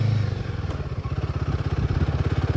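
A motorcycle ridden at dusk on a village road, its engine chugging steadily close by with a rhythmic pulsing throb and shifting load as gears change.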